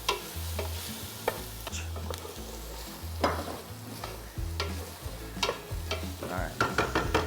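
Garlic and ginger sautéing in a pan, with a soft sizzle broken by repeated sharp clacks and scrapes of a utensil stirring in an uneven rhythm.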